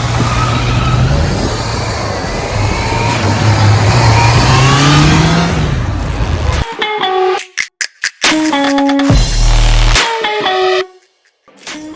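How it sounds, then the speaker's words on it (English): Honda CBR 650R sport motorcycle with its 600cc-class four-cylinder engine revving hard and steady for several seconds, a loud close sustained whine, then broken into short sharp blips and cuts with brief quiet gaps. "So now let's try the Honda CBR 650R."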